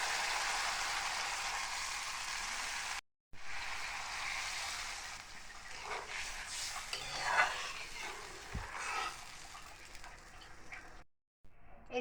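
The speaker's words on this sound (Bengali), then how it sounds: "এখন আমি এর মধ্যে ঝোল দিয়ে দেব" Liquid broth is poured into cooked spice paste in a pan for a fish curry with brinjal and lentil dumplings. A broad steady sizzle and bubbling hiss continues with faint stirring clinks, broken by two short silent cuts.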